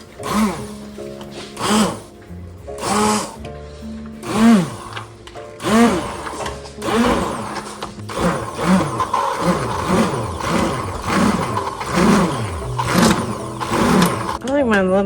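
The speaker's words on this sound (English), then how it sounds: "So I'm going to use my stick blender." A stick blender whirring through hot soup made in a crockpot, running in repeated bursts that rise and fall in pitch as it churns, loud and close, with a voice talking between the bursts.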